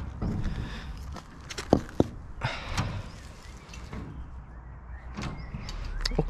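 A door at the entrance of an abandoned Cold War nuclear bunker opens with a few clunks and a sliding scrape, amid rustling movement and footsteps.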